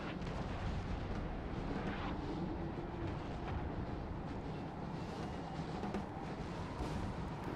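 Musket volleys and artillery fire in the Napoleon Total War video game, a dense continuous rumble of distant gunfire and booming blasts with no voices.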